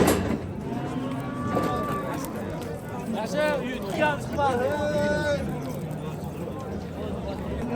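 Cattle at a livestock market mooing repeatedly at fairly close range, several drawn-out lowing calls rising over a busy background of people talking and general crowd noise.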